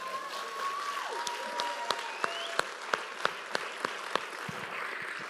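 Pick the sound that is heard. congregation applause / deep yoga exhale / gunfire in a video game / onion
congregation applause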